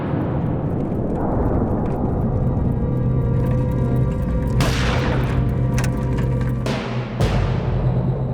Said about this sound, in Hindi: वहां से आ रहे थे तो एकदम से गोली की आवाज सुनाई थी